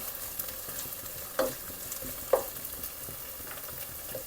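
Ginger garlic paste frying in a pan, a steady low sizzle with a couple of brief stirring scrapes standing out, no talk.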